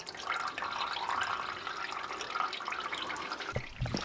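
Coolant drains out of a Mazda MX5 Mk2 radiator during a radiator change, a steady trickling, splashing flow of liquid heard close up, with no talk.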